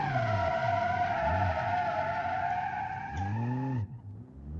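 A 1947 car in the BeamNG driving game skids under the handbrake, with a loud, sustained tire squeal that wavers over engine rumble for several seconds and then cuts off abruptly.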